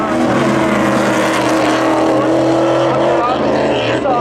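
Drag race cars roar loudly side by side at Seekonk Speedway, a dense, sustained engine howl close by with a commentator talking over the noise.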